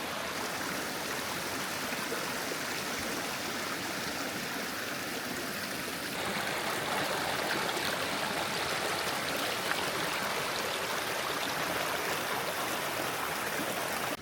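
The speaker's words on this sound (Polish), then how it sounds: "te wodospadziki w środku lasu" Small waterfalls rush through a misty, rainy autumn forest in the Tatra region, a steady broadband roar of flowing water that swells slightly louder midway and continues unbroken with no voices.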